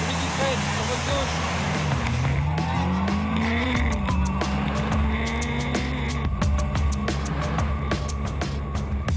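A car braking hard on a public road among other traffic, with tyres squealing and engine noise rising and falling close by under continuous talk.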